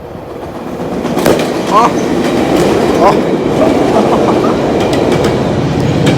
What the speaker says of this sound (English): All right, guys, train's coming.